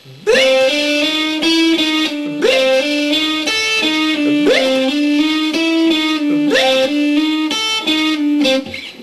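An electric guitar with a distorted tone plays a short repeating figure in an even, ticking rhythm, mimicking a metronome; loud and close with no talking.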